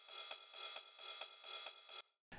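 A 707 ride cymbal sample struck on and off the beat, a bright shimmering wash pulsing in a steady pattern, loud and close, then cut off before a brief low sound.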